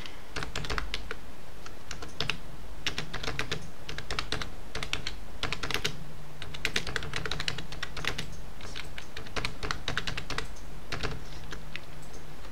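Steady typing on a computer keyboard, rapid clusters of close, crisp key clicks with short pauses, continuing without a break over a faint low hum.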